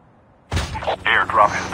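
Gunfire in the mobile shooter Call of Duty Mobile during a battle royale match: a sudden sharp burst followed by several louder crackling shots over about a second, mixed with game audio.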